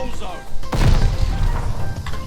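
A grenade in Call of Duty: Vanguard bursts with a sudden crunching boom and low rumble, while voices keep talking over the game audio.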